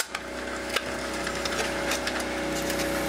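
A cassette in a Realistic car head unit whirs steadily on fast forward, making a faint tonal hum with scattered small clicks and rubbing ticks, with no speech.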